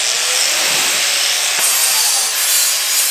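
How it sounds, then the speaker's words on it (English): Angle grinder cutting down a roll cage tube for a BMW, a loud, steady, close-up hissing grind that holds unbroken for several seconds, with no talking. "We'll just take down this with the angle grinder."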